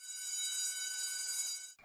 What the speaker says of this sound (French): 16h30, la sonnerie retentit